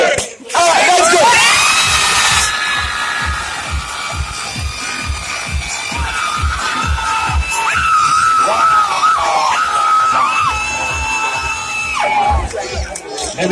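Audience at a live stage show cheering, screaming and whooping loudly and continuously, with children shouting and rhythmic clapping or stamping throughout, an amplified host's voice cutting through the crowd.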